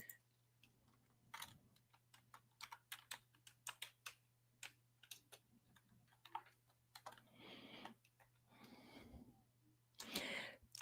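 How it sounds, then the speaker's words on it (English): Keyboard typed with fingernails gives a quick run of sharp, irregular clicks, quiet and close, with a few softer rustling bursts between the keystroke bursts and a steady low hum underneath. "Typing with nails is not the thing to do."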